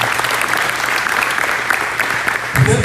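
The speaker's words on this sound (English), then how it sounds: "So give your parents a round of applause if they're here." Applause from the crowd at a college basketball showcase, a steady patter of many hands with a louder burst of noise near the end.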